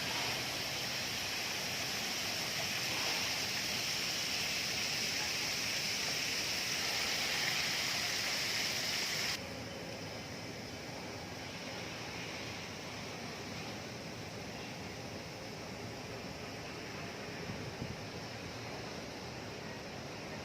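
A waterfall in the rooftop garden of Dusit Central Park in Bangkok sends up a continuous, even rush of falling water. It is fairly soft and becomes noticeably duller and quieter about halfway through, with no voices.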